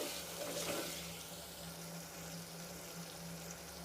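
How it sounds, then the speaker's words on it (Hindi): Water is poured into a pan of frying tomato and green chilli masala for aloo matar, producing a steady, even sizzling hiss throughout. "अब इसमें हम थोड़ा सा पानी शामिल करेंगे ताकि टमाटर अच्छे से गल जाए"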